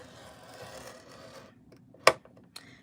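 A scoring tool drags along cardstock on a scoring board, a soft rasping stroke followed by a sharp click and a smaller tap, quiet and close, no talking.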